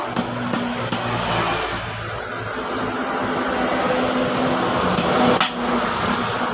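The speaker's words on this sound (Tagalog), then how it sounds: "Pupukpukin natin ito ng martilyo para bumaon." Several sharp metallic hammer taps ring out close by as a circlip is driven into place, spaced irregularly, over a steady background hum.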